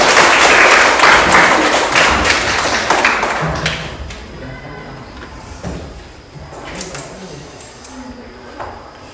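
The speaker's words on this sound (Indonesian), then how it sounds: "Yuk, tepuk tangan lagi yuk." Audience applause in a classroom presentation session, a burst of dense clapping that thins into scattered claps, thumps and a few voices.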